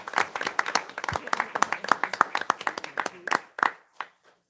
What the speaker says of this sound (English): I just think that's worth another round of applause.